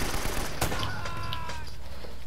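Gunshots in Uncharted: Drake's Fortune, a loud burst of close game gunfire with sharp cracks and ringing tails against a busy rumbling background, no talk.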